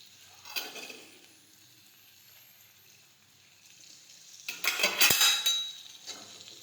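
A spoon stirs and scrapes tindora and chili sambharo in a hot pan, with a soft sizzle beneath. A short burst of scraping comes early, then a louder, busier stretch of clattering strokes near the end, and no one speaks.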